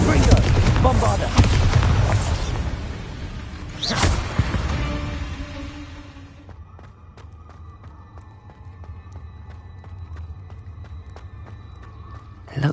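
Spell explosions from Confringo and Bombarda cast in Hogwarts Legacy, loud booming blasts and rumbling debris in a cave over the first six seconds, then fading to a quieter ambient hum.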